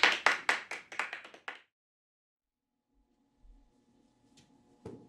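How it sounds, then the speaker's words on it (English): Short burst of clapping from a small audience at a school coffee house performance, a handful of close, sharp claps over about a second and a half, then near silence with faint room noises and a thump. "Please give a round of applause to Gemma, Julia, Noah, Carson, Finley, and S"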